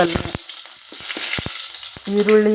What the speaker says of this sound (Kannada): ಎಣ್ಣೆ, ಸಾಸಿವೆ, ಜೀರಿಗೆ ಮತ್ತು ಕರಿಬೇವು ಮತ್ತು ಹಸಿಮೆಣಸಿಕಾಯಿ ಹಾಕ್ಕೊಂಡಿದ್ದೀನಿ